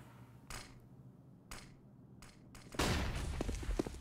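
Desert Eagle pistol shots in Counter-Strike on the Train map during a pro match: three sharp, separate reports at roughly one-second intervals, followed by a dense, louder burst of overlapping gunfire.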